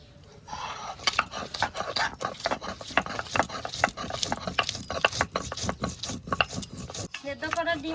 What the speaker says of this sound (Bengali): এবার লঙ্কাটা বেটে নেব।